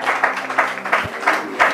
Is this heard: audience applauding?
yes